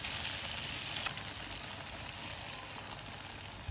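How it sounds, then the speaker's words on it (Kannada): Falafel frying in hot oil, giving a soft, steady crackling sizzle that runs continuously and fairly faintly, with no voices over it. "ಆಯಿಲ್ ಬಿಸಿಯಾದ ನಂತರ ನಾವು ಇದಕ್ಕೆ ಫಲಾಫಿಲನ್ನು ಆ್ಯಡ್ ಮಾಡಿ ಕೊಡೋಣ. ಎರಡೂ ಸೈಡಲ್ಲಿ 10 ಮಿನಿಟ್ಸ್ ಫ್ರೈ ಮಾಡಿ ಕೊಡಿ."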